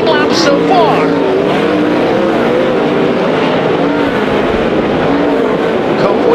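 World of Outlaws sprint cars race at Bakersfield Speedway, engines roaring continuously at close range under steady commentary.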